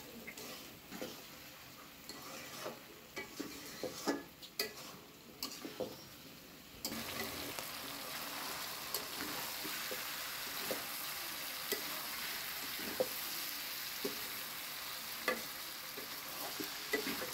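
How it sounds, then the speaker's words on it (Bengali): Bitter gourd and jackfruit seeds sizzle and fry in an uncovered pan while being stirred, with scraping spatula strokes and occasional taps. A steady, close frying hiss continues throughout and grows fuller midway. "এইভাবে ভেজে নেব"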